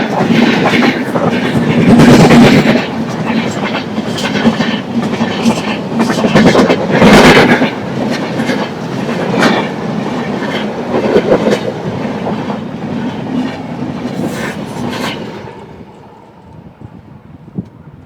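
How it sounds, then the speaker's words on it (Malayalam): A train rolls past on railway tracks near a fishing spot by the water, a loud sustained rumble with rhythmic clickety-clack of the wagons, buffeted by wind noise, fading away at the end. "ഒരു ട്രെയിൻ വരുന്നുണ്ടേ"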